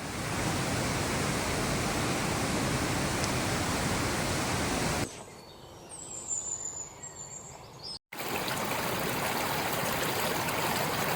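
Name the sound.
flowing water of a creek near a hot spring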